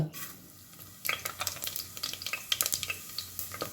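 Cumin seeds hit hot oil in a pan, giving a close, crackling sizzle with rapid spattering pops that build after a soft start and continue densely.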